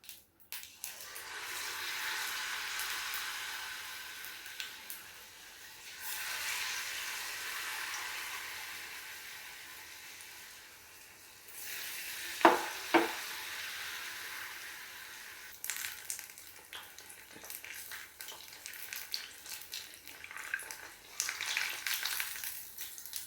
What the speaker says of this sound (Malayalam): അങ്ങനെ ലാസ്റ്റത്തെ 2 ബോളും കൂടെ നമ്മൾ വറുത്ത് കോരിയെടുത്തിട്ടുണ്ട്